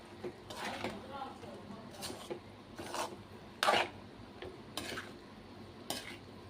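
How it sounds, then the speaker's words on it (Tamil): A spoon stirs rice into a tomato mixture in a pan for tomato rice, giving faint, close scraping and rubbing strokes at a loose rhythm. "இப்போது ரைஸை ஆட் பண்ணிக்கிறேன். இது நல்லா மிக்ஸ் பண்ணிடணும்."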